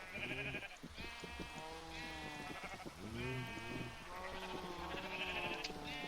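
Sheep in a pen in the video game Minecraft bleat over and over, a string of wavering, nasal calls following one another with barely a pause.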